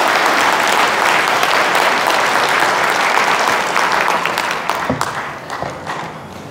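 An audience at a church lecture gives dense, sustained applause to welcome the speaker, the clapping thinning out and tapering off toward the end.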